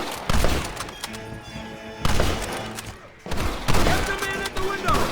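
Red Dead Redemption gunfire: heavy volleys of rifle and revolver shots crack in dense bursts, with brief pauses between three loud clusters.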